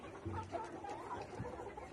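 Layer hens on a poultry farm cluck softly in a steady, murmuring chorus, several birds calling close by with short, overlapping notes.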